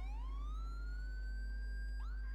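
A police siren in GTA 5 with the LSPDFR mod wails loud and steady, one long rising sweep and then a quick restart near the end, with no talk.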